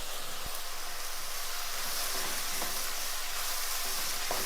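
Chopped tomatoes dropped into onions frying in oil for an egg gravy, giving a steady, even sizzle that stays close and fills the whole stretch without a voice.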